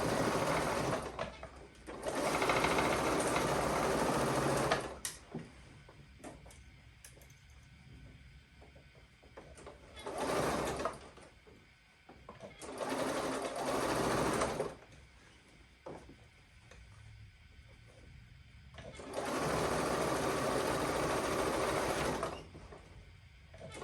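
A home sewing machine stitches in several long runs of steady whirring, with pauses between runs filled by quiet handling and clicking of the fabric and machine.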